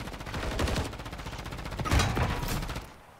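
Gunfire rattles in an online shooter match, sustained bursts of rapid shots, loud and near, fading out at the end.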